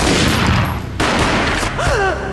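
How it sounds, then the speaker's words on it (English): Gunfire booms in the video game Max Payne, with several loud shots in quick succession close by, followed by a brief voice-like sound. "A gunshot boomed and she fell down in slow motion."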